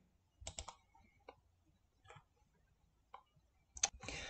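Sharp computer mouse clicks and keyboard taps come in short separated bursts, close and fairly quiet in an otherwise silent room.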